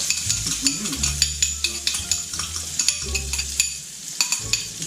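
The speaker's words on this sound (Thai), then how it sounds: "ได้เริ่มได้ที่แล้วเราก็ใส่เป็นพวกพริกกระเทียมไปนะครับ" Chili and garlic are stir-fried for a squid and holy basil stir-fry, with a steady loud sizzle under a quick rhythm of metal spatula scrapes and taps against the pan, close up.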